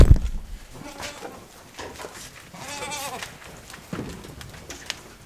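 Goats bleating at feeding time on a farm, a few scattered calls near and farther off amid soft rustling and movement, with a loud knock at the start.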